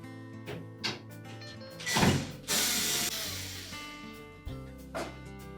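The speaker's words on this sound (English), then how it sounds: "we're next going to remove these two screws that secure that main top to the cabinet" Screws being backed out of the top panel of a Whirlpool gas dryer cabinet, heard as close ratcheting clicks from a driver, a few scraping metallic movements and short bursts of turning with pauses between.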